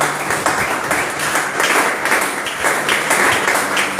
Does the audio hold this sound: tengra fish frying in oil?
no